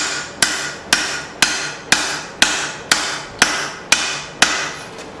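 Straight peen hammer forging a Bowie knife blade, ten sharp, evenly spaced ringing blows about half a second apart, close and loud, each strike trailing a short metallic decay, no talking.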